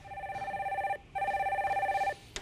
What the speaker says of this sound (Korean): 두 번째 전화 연결해 주세요